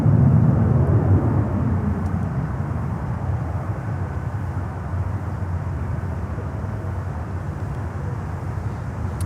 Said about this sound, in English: Look at this beauty here. On the way here to runway 9.